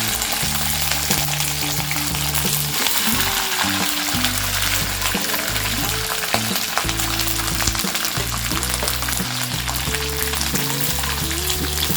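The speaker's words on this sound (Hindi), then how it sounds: "राई क्रैकल होने के बाद हम इसमें ये तेंदली डालेंगे।" Steady, loud sizzling of ivy gourd dropped into hot oil with crackling mustard seeds runs throughout, with scattered pops over a low droning tone and no talking.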